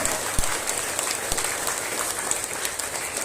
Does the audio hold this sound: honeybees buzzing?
no